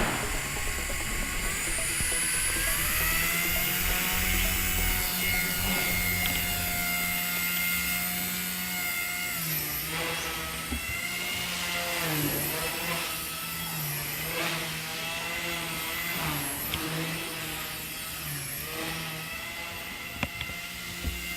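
Walkera V100D03 RC helicopter spinning up and flying, a steady high-pitched rotor and motor whine that holds throughout with wavering pitch as it maneuvers, fairly close and continuous.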